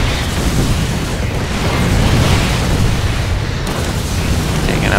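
Missile turrets blowing up in the StarCraft 2 real-time strategy game: a dense, continuous barrage of booming explosions and crackling blasts that stays loud throughout.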